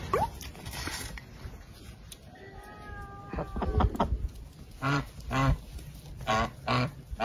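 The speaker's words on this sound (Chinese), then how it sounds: "喵，小猫咪，小猫咪。" A small kitten gives a few soft, rising meows at close range, followed by several short, higher cries in a quiet indoor setting.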